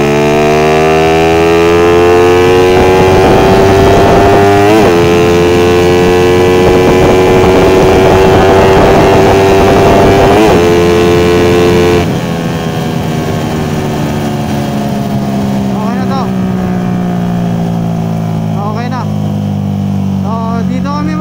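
Motorcycles revving at a drag race start, a Yamaha Mio against a Raider 150: loud, close engine drone with rising and falling revs, then a drop in level as the pitch shifts into repeated whining rev sweeps.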